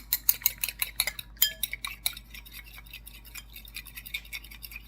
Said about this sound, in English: I'm going to mix up my egg a little